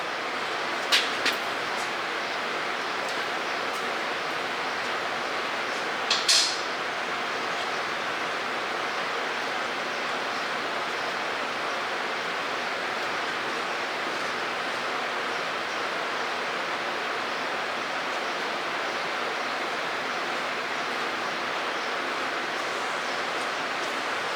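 Motor oil from a 1999 Ford F250 Super Duty V10 drains steadily from the oil pan into a catch container, a continuous broadband pouring hiss with a couple of faint clicks early on.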